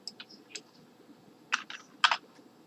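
Keys click on a computer keyboard in short bursts, a few scattered taps followed by two quicker clusters of keystrokes, close and clear in a quiet room with no talking.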